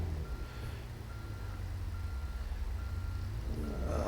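A semi truck backing up at a truck stop, its reversing alarm beeping in a steady repeating pattern over the low idle of the engine, fairly close, with no talk.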